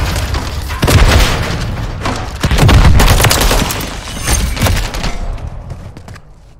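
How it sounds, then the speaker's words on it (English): Grenade explosions in a Call of Duty MW3 multiplayer match, several heavy booms and thuds mixed with rattling gunfire, loud and close, fading out toward the end. "Had four grenades fired."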